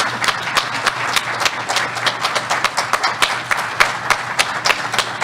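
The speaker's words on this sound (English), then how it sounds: "I'd really love to start off a solid round of applause for her" Applause from a small audience at the BSides Las Vegas 2022 security conference, irregular sharp claps pattering steadily throughout at moderate volume, no voices.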